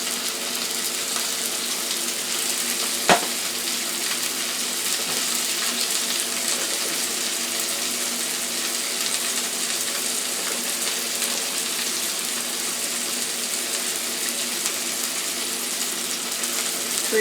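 Peppers and onions fry in oil with a steady, dense sizzle that holds evenly throughout, close and continuous, with one faint click early on and no talking.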